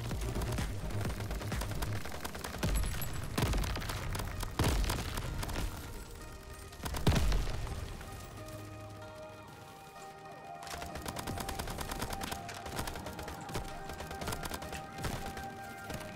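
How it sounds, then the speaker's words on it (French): Shotgun blasts ring out in the Crab Champions game amid a chaotic fight, several loud booming shots in the first half followed by denser clattering gunfire and effects. "Il a un fusil à pompe lui."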